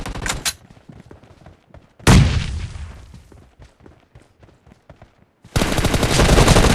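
Gunfire in the mobile battle-royale game PUBG Mobile: a short burst, a heavy loud blast with trailing rumble and scattered shots, then a sustained dense barrage of rapid fire at the end, with no talking.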